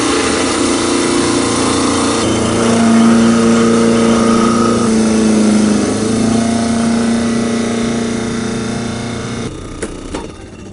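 A Waring Liquilock food processor runs loudly and steadily, a whirring motor drone with shifting pitch that winds down near the end, followed by a couple of sharp clicks.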